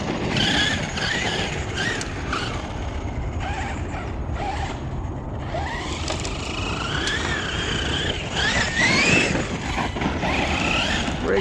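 A Hobao Hyper MTX 1/8-scale RC monster truck running on a 6S battery whines and creaks continuously as it drives, its electric motor pitch rising and falling with throttle at close range.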